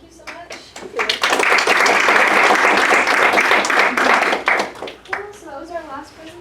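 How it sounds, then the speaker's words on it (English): An indoor audience at a live classroom session applauds after the presentations. Dense clapping swells and holds for several seconds, with talking just before and after it. "one more big round of applause for everybody who presented"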